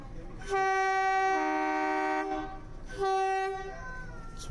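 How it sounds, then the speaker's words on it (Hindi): A train horn sounds two loud, steady blasts at a small station in Gujarat, India, the first long and the second shorter, with faint background noise between. "ड्राइवर ने हॉर्न बजा दिया है।"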